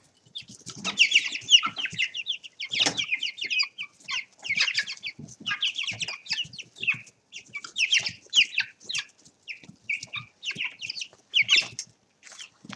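Chickens cluck and chatter around their food bowl, a busy run of short clucks and squawks in irregular bursts, close and lively, with no voices.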